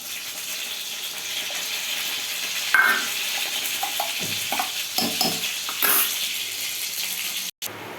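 Ground spice paste hits frying pointed gourd in a pan with a soft steady sizzle, broken by scraping stirs and a few clinks of a utensil against the pan.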